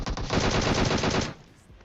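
Rapid automatic gunfire in the battle-royale game PUBG, a loud sustained burst of closely spaced shots that cuts off abruptly, leaving a faint tail.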